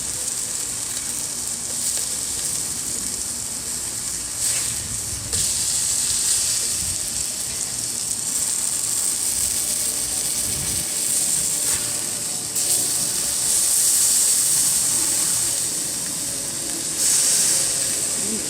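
Burgers sizzle and fry in a cast iron skillet on a parabolic solar cooker, a steady bright hiss that carries throughout at close range with occasional scrapes and shifts as the food is moved around.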